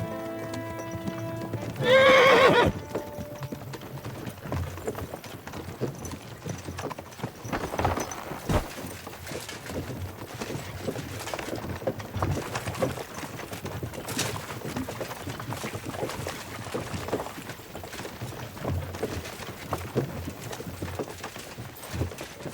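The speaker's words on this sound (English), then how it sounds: "Nice horses you have there." Horses in the medieval game Kingdom Come Deliverance II give a loud whinny early on, followed by a steady clip-clop of hooves walking at a moderate pace, with occasional bird calls in the background.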